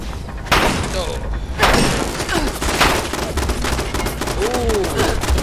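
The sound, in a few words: gun turrets firing in the Fallout 76 video game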